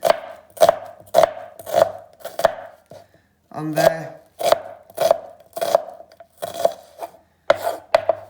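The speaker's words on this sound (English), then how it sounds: "Just simple chopping." A kitchen knife chops vegetables for leek cannelloni on a cutting board, producing a steady run of sharp, close thuds with a short pause where a voice speaks briefly.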